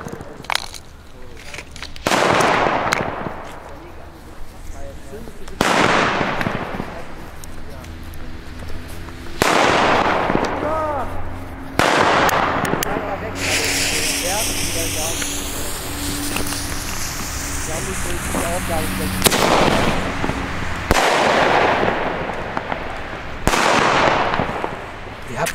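Weco Flash Bang and Double Flash firecrackers go off outdoors in daylight, a series of sharp loud bangs spaced several seconds apart, some followed by crackling bursts.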